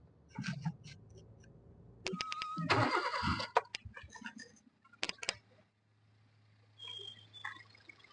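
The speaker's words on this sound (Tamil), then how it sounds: "வண்டி ஸ்டார்ட் பண்ணி நிற்கிது, ஆனால் சவுண்டே இல்லாமல் இருக்கு" A 2016 Toyota Etios Liva VX engine turns over with a burst of cranking noise, then settles into a low, quiet idle, with a few clicks and faint metallic ticks nearby.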